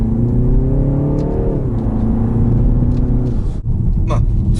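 A 2021 BMW 330i M Sport driven in sport mode with manual shifting, its engine rumbling steadily and rising in pitch, then dropping as it shifts, under continuous road noise.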